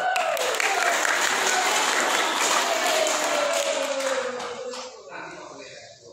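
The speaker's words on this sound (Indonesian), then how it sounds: "Tepuk tangan." Audience applause at a Sunday school church service, a steady wash of clapping that fills the room and then fades, with a sustained tone running underneath.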